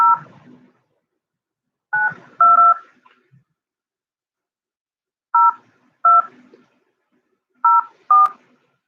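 A telephone number being dialed on a keypad, with short clear DTMF beeps coming singly and in pairs separated by pauses, about eight tones in all and nothing else in between.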